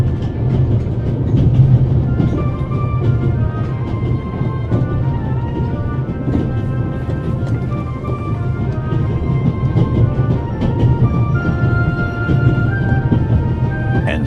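Train rolling through the Alps in the game The Raven: Legacy of a Master Thief, a steady low rumble with faint rhythmic clatter and tonal hums running the whole time, loud and unbroken, with no talk over it.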